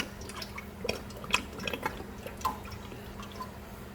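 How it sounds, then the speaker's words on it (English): Cooking oil poured into a pan before frying fish, heard as faint, scattered drips and trickles at close range in a quiet kitchen. "We got the oil. We're about to pour it in and get it ready."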